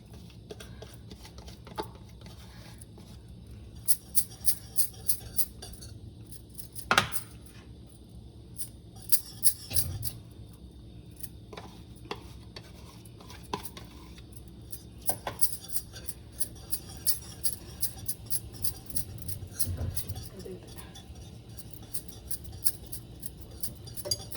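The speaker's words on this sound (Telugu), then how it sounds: "విస్కర్తో ఇట్లా కలుపుతున్నాను" A whisk works gram flour into ghee in a pot, giving light, rapid metallic clicks and taps that come in irregular bursts against a quiet background, with a few sharper knocks between.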